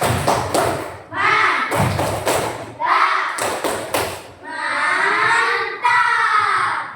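Children in an Indonesian primary classroom clap together in a rhythmic patterned cheer, sharp unison bursts of hand claps separated by short pauses, followed by a rising chant of young voices.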